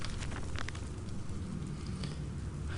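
Infernal machinery in Amnesia: A Machine for Pigs gives off a dense, continuous hiss of steam and roaring fire over a low rumble, fairly quiet and with no speech.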